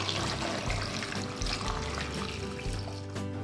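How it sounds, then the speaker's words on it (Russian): Water pours steadily and splashes into a pot of cut potatoes, a continuous close rushing with low hollow rumbles beneath. "зальем ее водой"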